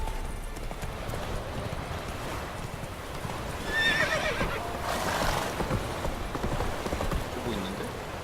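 Roach the horse in The Witcher 3 gives a clear whinny amid hoof clops and ambient outdoor game sounds, moderately close and standing out mid-clip.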